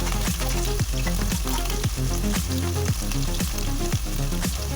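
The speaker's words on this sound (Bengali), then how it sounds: "পনিরগুলো কড়াইয়ে দিয়ে দিয়েছি আর হালকা করে আমি এগুলো ভেজে তুলব।" Paneer pieces coated with salt, turmeric, Kashmiri chilli powder and cornflour fry in hot oil in a kadai, giving a loud, continuous crackling sizzle that holds steady throughout without pauses.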